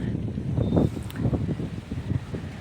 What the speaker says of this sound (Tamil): லேசாக சாரல் அடிக்குது, ஃபுல்லாக காற்று அடிக்குது மக்களே